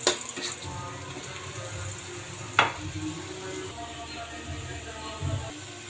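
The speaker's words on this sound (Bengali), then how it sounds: "পেঁয়াজ রসুন দিব, দিয়ে বাগারটা দিব।" Onion and garlic sizzling in hot oil as a tempering for dal, a steady frying hiss with a few sharp clinks and pops, quite close and alone.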